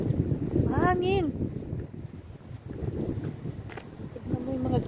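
Cold spring wind buffets the microphone outdoors with a low, rumbling roar, loud and close, while a person speaks briefly over it.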